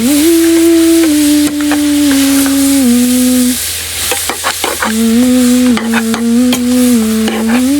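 Onions and other ingredients being added to a pot for matooke and beef stew in an African village, a loud steady sizzle and frying hiss with a strong sustained tonal whine and a run of sharp clattering stirs, close up.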